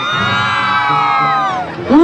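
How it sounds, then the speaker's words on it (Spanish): Women guests at a wedding in Huanaspampa, Peru, let out a loud, sustained high-pitched collective shout, a dense crowd scream close by that holds for over a second before fading, with a fresh yell rising at the end. "¡Un grito a todas las mujeres!"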